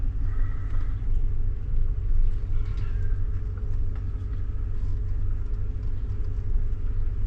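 A car backs a boat trailer carrying a Tracker Panfish 17 boat down a launch ramp, giving a steady low engine rumble with tyre and road noise, close and continuous with no talking.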